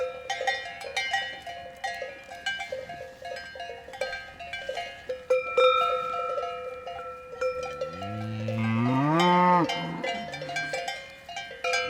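Cows coming down from the mountain as the cold arrives, with many cowbells clanking in an irregular jangle throughout and a long, loud moo rising near the end, with faint talk nearby.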